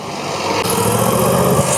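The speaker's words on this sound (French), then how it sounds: "Coupe le moteur" A Moto Guzzi V7 850 motorcycle engine runs close by, a steady, throbbing idle whose pitch and loudness rise slightly partway through as it keeps running.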